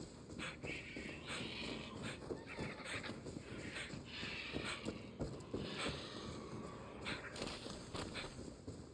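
A horse in Far Cry 6 walks with steady clip-clop hoofbeats and whinnies over a constant outdoor ambience. Both stay fairly quiet and steady throughout.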